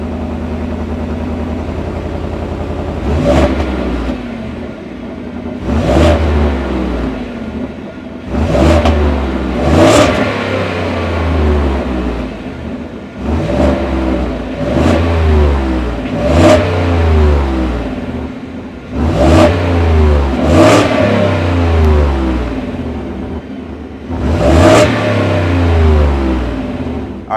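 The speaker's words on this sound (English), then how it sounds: "that was the sound of the 5-liter V8 sold by Ford for the 2025 F-150 Tremor" A Ford 2025 F-150 Tremor's 5-liter V8 revved repeatedly from idle, about a dozen sharp throttle blips rising and falling in a loose rhythm over a deep rumbling idle, close and loud.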